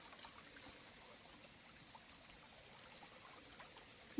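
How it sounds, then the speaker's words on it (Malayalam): Water flowing steadily in a small forest stream, a faint, continuous trickling wash with no other sounds and no one talking. "ഒന്നിങ്ങനെ ഒഴുകി വരുന്ന വെള്ളം"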